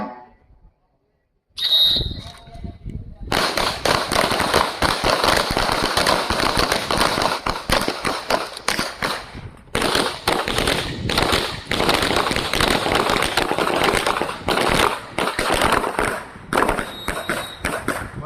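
Handgun shots fired at a combat shooting range, a quiet start followed by a dense, loud barrage of sharp cracks from several shooters, continuing almost without pause.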